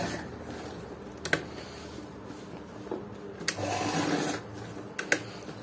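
A zigzag sewing machine stitches a buttonhole on fabric, a steady whirring run punctuated by sharp clicks and knocks of the mechanism, close and clear with no voices.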